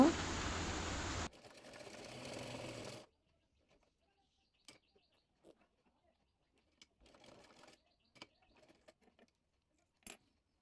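A sewing machine stitches an umbrella frock in two close, loud bursts at the start, one fast and one slower, followed by quiet with scattered faint handling clicks.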